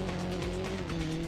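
A rally car in the WRC racing game drifts through a curve on sand, its engine droning steadily under a brief skidding hiss of sliding tires.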